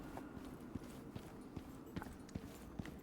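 Horse hooves clip-clop in the survival game Icarus, a steady walking rhythm of soft, separate thuds against a low ambient bed, moderately near with no talk.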